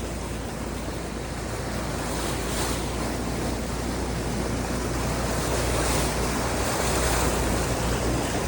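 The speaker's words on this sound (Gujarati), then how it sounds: "વરસાદ તો જુઓ તમે ઓહો ભાઈ સાફ એટલો વરસાદ છે" Dense, steady rain roars as an unbroken wash of hiss, loud and even throughout, with no voices, beside a national highway.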